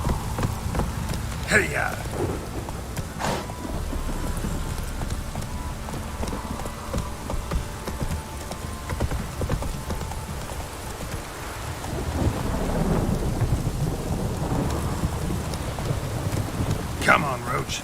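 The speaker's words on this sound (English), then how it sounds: "This downpour's a bastard, it is." Heavy rain pours steadily in The Witcher 3, with a rumble of thunder swelling toward the end, while horse hooves clop underneath and a voice calls out over the downpour.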